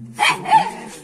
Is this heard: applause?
no